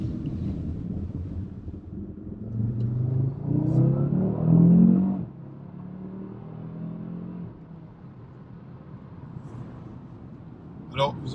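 A Cupra Formentor VZ5, a 390 hp 2022 model, hums and rises in pitch as it accelerates onto a highway, the engine note swelling to a peak then easing off, with wind noise and a voice talking over it.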